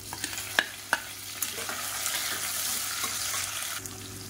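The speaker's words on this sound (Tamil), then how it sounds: "மீடியம் சைஸாக பெரிய வெங்காயம் நீளமாக கட் பண்ணதை சேர்த்துக்கலாம்" Sliced large onions and whole green chillies fry in a pan for a crab dish, a steady broadband sizzle with a few sharp clinks of a spoon stirring near the start, no voices.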